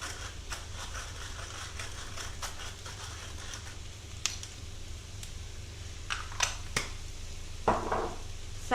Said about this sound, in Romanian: Amestecăm.